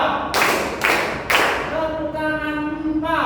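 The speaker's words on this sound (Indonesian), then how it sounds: "tepuk tangan 3," A Grade 7 class claps in unison three times in an ice-breaker game, three sharp, evenly spaced group claps close by, then a voice talks.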